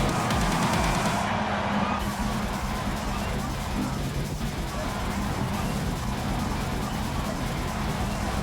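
Bugatti Veyron Group 4 race car engines in Gran Turismo, a dense continuous roar of several cars revving together at a race start, loud and steady with voices mixed underneath.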